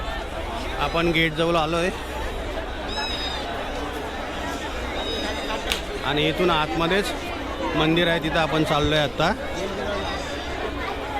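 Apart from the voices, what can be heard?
crowd chattering at the Mhasa temple fair in Maharashtra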